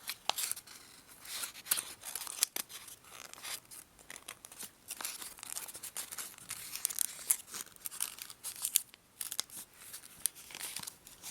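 A sheet of origami paper is folded and creased while making an elephant, soft close crinkles and sharp crisp snaps scattered irregularly, quiet with no voices.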